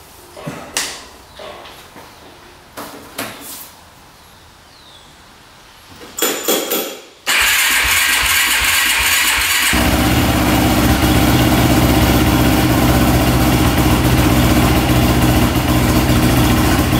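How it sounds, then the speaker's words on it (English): A race quad's engine fires up after a few clanking, tapping sounds, then settles into a loud, steady, buzzing idle that runs on without a break at close range. "Let this thing idle for a little bit"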